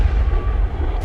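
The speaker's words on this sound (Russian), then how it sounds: "Там начались вот эти взрывы." A loud, deep explosion rumbles in a sustained low boom that fills the brief moment and ends abruptly.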